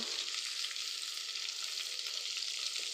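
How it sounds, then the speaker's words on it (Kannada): Steady, loud crackling sizzle of thinly sliced onions frying in hot tempering oil, continuous and close with no pauses or voices. "ಇವಾಗ ಒಗ್ಗರಣೆ ಆಗಿದೆ ಅಲ್ವಾ ಅದಕ್ಕೆ ಈರುಳ್ಳಿನ ಹಾಕ್ಕೋಬೇಕು"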